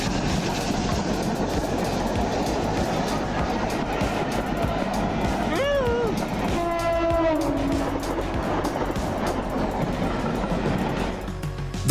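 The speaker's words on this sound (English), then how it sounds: "Shooting steam from a train passing by" A train rolls past close by with rumbling wheels and clattering cars, and a loud horn sounds midway in a short rising blast followed by a longer held tone, all over continuous heavy rail noise.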